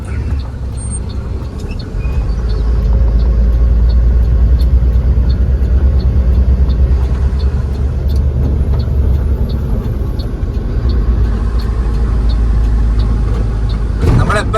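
Inside the cab of a hitchhiked lorry on a night run toward Kasaragod, a loud, constant engine and road drone rumbles for over ten seconds, rising after a quieter start and cutting off abruptly near the end.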